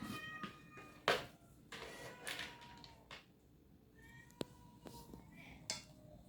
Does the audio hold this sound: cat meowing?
yes